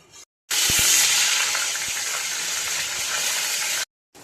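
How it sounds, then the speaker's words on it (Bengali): Hilsa fish heads rubbed with salt and turmeric sizzle in hot oil, a steady close frying hiss lasting a few seconds between brief silences, with a couple of soft clicks at the start. "তেল গরম হয়ে গেছে, এবার আমি মাথাগুলো ভেজে নেব।"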